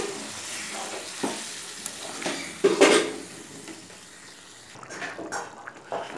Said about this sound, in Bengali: আমি পরিমাণ মতো জল দিয়ে দিচ্ছি।